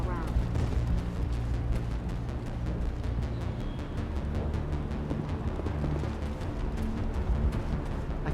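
Dense, continuous gunfire from a firefight in the video game Mass Effect, sustained rapid shots layered over a low rumbling bed, loud and steady throughout.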